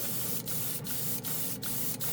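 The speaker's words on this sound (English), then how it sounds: "Let's see how long it takes to spray a spoon." An airbrush fitted with a spray gun nozzle hisses continuously as it sprays paint onto a spoon, a loud, close, steady spray broken by five short, regular pauses.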